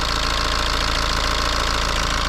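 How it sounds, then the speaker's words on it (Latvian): BMW N47 diesel engine running roughly with one cylinder misfiring, a steady close-up idle with an uneven, knocking pulse throughout and no talking. "Tā viņš drusku tā kā viens cilindrs negāja."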